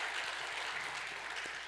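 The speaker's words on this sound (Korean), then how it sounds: "마음 담고 박수 한번 하도록 하겠습니다." A church congregation applauds during a Sunday worship service, a steady dense wash of many hands clapping together at moderate distance, with no voices over it.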